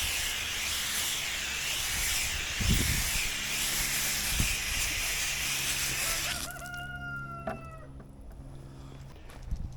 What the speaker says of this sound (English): go ahead and spray it off.